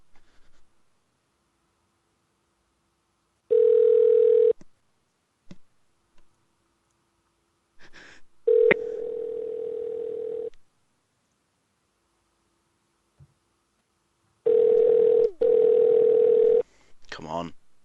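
Telephone dial tone in a video game: a steady electronic tone sounds in three separate stretches of a few seconds each, broken by clicks, with people talking over the gaps.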